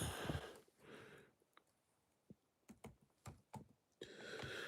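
Someone types on a computer keyboard at a day-trading desk, a few soft close key clicks spaced irregularly, with quiet breathing sounds and muffled noise at the start and end.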